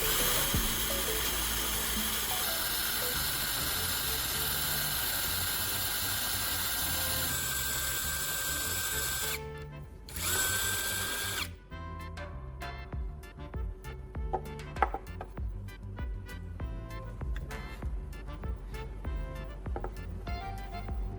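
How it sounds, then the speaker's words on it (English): A power drill whines steadily for several seconds as it bores a deep hole into a wooden block, pauses briefly, then continues with uneven grinding bursts and scattered ticks. "I use a drill to make a fairly deep hole right at the center"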